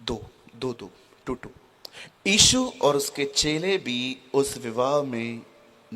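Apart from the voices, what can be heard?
None of the usual background noises is heard.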